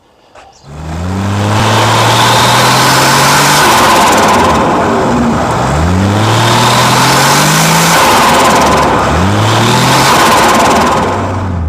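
A Nissan Stagea C34 engine revs repeatedly in loud rising bursts, with fluttering turbo blow-off whooshes from a solo can as the throttle lifts between pulls, close by and continuous.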